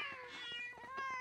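A cartoon kitten meows in a high, thin, wavering cry, one drawn-out call followed by shorter mews, heard alone and close.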